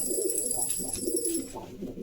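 A pigeon coos close by in soft, repeated low calls at a breeder's sale, heard alone without any talking.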